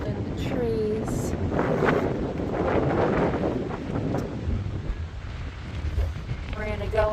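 Wind rushes through trees on a coastal hike, a loud, continuous roar with gusts that swell and ease, buffeting close to the microphone the whole time.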